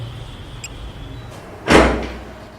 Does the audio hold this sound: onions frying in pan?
no